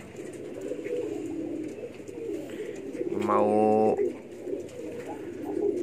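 A pigeon gives one close, throaty coo against a soft outdoor background, with a brief spoken word nearby.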